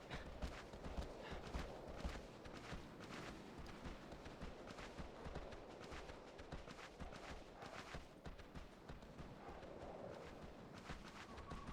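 Horse hooves clip-clopping in the video game Shadow of the Colossus, a steady rhythmic patter of footfalls close by, running continuously under game ambience and wind-like noise.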